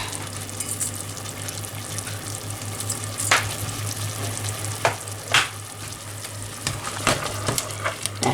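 Food seasoned with Chinese five spice sizzles in a hot pan while being stirred, a steady close frying hiss broken by several sharp scraping strokes of the utensil.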